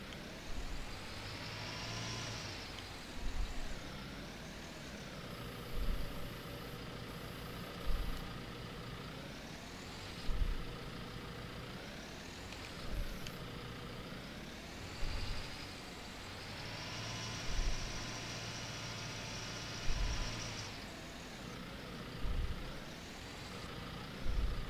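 Pickup truck engine in Farming Simulator 19 idles and drives, a low steady drone that swells and falls repeatedly with gear and throttle changes, faint and continuous throughout.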